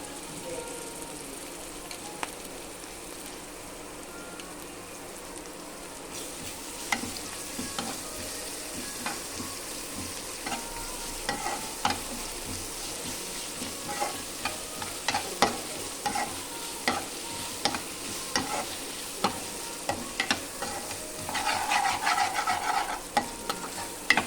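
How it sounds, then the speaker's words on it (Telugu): Ginger garlic paste frying in a pan, a continuous sizzle with frequent sharp scraping and clinking of a utensil stirring, busier toward the end, no speech. "ఇప్పుడు అల్లం వెల్లిగడ్డ వేస్తున్నా."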